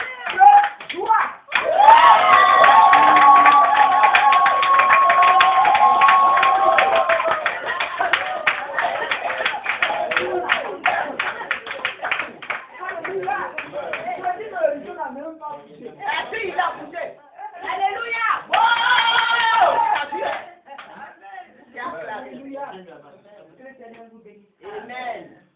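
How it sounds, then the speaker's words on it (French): A church congregation applauds and cheers with joyful shouts, loud clapping and voices rising together for several seconds, then thinning into scattered claps and calls that fade out. "Quand tu as acclamé, tu as applaudi avec des cris de joie."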